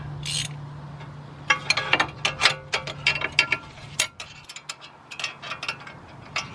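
A ratchet clicks in rapid irregular bursts while a T40 Torx bit torques down a bolt during a ball joint replacement on a 2011-2014 VW Jetta, with a low hum under the first few seconds.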